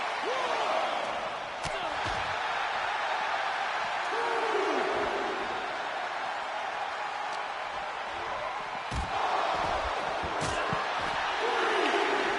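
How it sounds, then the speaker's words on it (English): Arena crowd noise from a WWE SmackDown wrestling video game, a steady roar of cheering with scattered slams and impacts throughout, heard under continuous commentary talk. "And this crowd is loving it."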